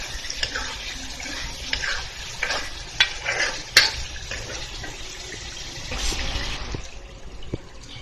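Chopped green chillies sizzle and fry in a beef karhai while being stirred, a steady close crackle with occasional scraping clinks of the spoon against the pan.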